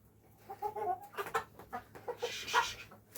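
A heavy broiler laying hen clucks in a series of short, close, moderately loud calls in a farmyard, with no talking over them.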